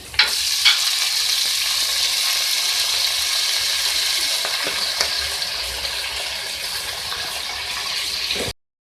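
Kulfa (purslane) greens frying with spices in a pan for aloo kulfa saag, a loud continuous sizzle with stirring scrapes and occasional clatter, ending abruptly, with no talking.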